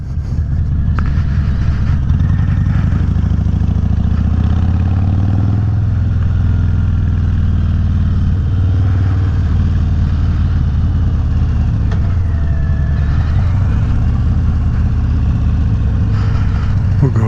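A motorcycle fitted with a fairing rumbles steadily while riding, a loud constant low engine drone with wind buffeting, the pitch rising slightly as it pulls along, no speech over it.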